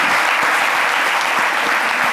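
Steady applause from a crowd, dense and continuous clapping throughout, fairly loud and close.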